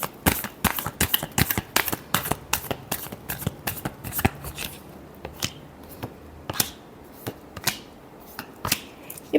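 A deck of tarot cards shuffled by hand, a brisk run of crisp riffling snaps that thins into slower, scattered flicks, close and alone without any voices.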